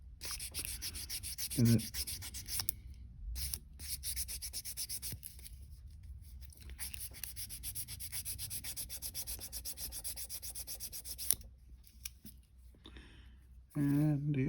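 Hand sanding rasps back and forth in bursts on the mating surface of a 1969 Dodge Coronet Super Bee, with pauses between passes and someone speaking briefly.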